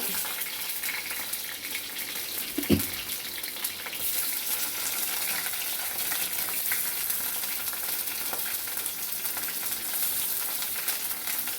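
Garlic, green chillies and shallots sauté in oil for a Kerala-style fish curry, making a sustained, fairly soft frying hiss with a brief stirring knock early on.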